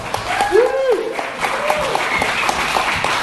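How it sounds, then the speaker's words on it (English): Audience applause at the Libertarian Party of Indiana convention for Christy at the foot of the stage, a broad wash of clapping under a whoop and talk from the crowd. "everybody give her a round of applause"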